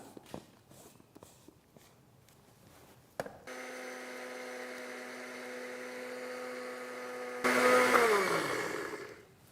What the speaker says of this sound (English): we're going to make a little bit of noise here as we grind this up